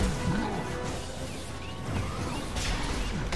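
Hulk smashing objects in a Marvel Avengers video game, with a steady run of crashes and thwacks over dense game noise and a few whooshes, loud and continuous, with no talk.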